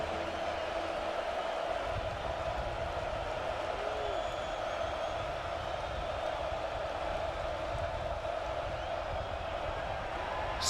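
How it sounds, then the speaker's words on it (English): A football crowd roars steadily inside Memorial Stadium at an SMU versus Oklahoma game, a broad continuous wash of cheering that swells early and holds, with a broadcaster's voice over it. "Here comes this crowd inside Memorial Stadium."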